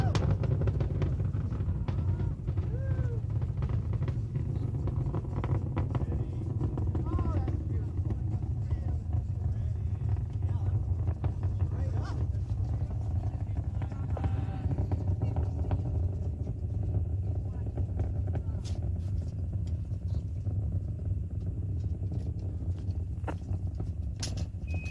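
Space Shuttle Endeavour's rocket engines roar during the STS-47 launch as a steady, dense low rumble that fills the whole stretch, with faint radio voices over it.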